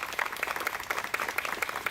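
Brief, moderately loud applause from a crowd honoring servicemen and women at an outdoor street co-naming ceremony, individual claps audible within the steady patter.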